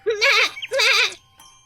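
A goat bleats twice in quick succession, each a loud, wavering, nasal call close by, followed by a brief faint sound.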